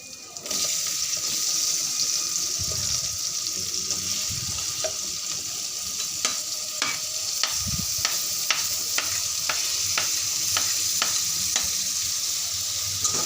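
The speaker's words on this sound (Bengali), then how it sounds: "আলুটা আমি নেড়ে চেড়ে নিয়েছি কিছুক্ষণ।" Chopped potatoes are stirred in a frying pan, with a steady sizzle of frying under repeated scraping clicks and taps of a spatula against the pan, close and moderately loud.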